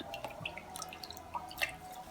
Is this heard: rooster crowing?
no